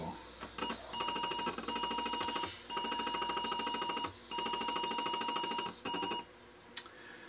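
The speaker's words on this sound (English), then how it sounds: "Let's boot up drive 1." An Atari 1050 floppy disk drive boots as one of four drives in a duplication station, giving repeated bursts of rapid clicking and whirring separated by short pauses, loud and close with no talk.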